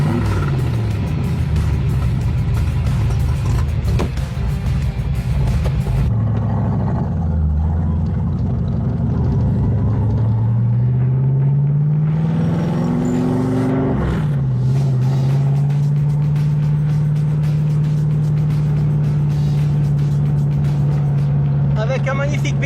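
A car engine, fitted with an electric fuel pump, rumbles loudly and revs, rising and falling in pitch before settling into a steady, sustained roar, with someone speaking over it.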